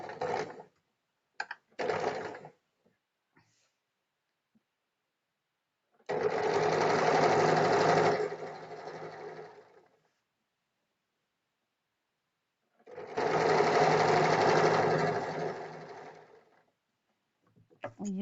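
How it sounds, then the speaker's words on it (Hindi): A sewing machine stitching a belt blouse in short bursts, two long runs of rapid mechanical whirring several seconds each, close and clear, separated by quiet gaps with brief clicks of handling at the start. "वहां उसी के ऊपर हमें सिलाई करनी है।"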